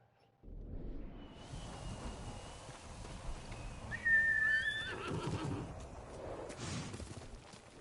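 A horse neighs and whinnies in the video game Ghost of Tsushima over soft ambient game sound and faint hoof clops, the call rising and fading mid-clip, with no speech.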